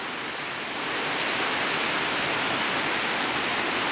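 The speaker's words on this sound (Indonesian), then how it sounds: "sewaktu kita di rumah di waktu hujan" Steady rain heard from inside a house, a dense, even hiss that swells in over the first second and then holds constant with no voices.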